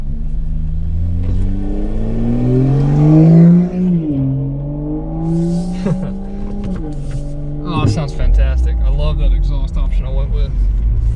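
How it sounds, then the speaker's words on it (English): Toyota GR86 sports car driving ahead, its engine rumbling and revving up and down at mid distance, heard under steady conversation from people inside another car. "now I get to see my own car driving in front of me"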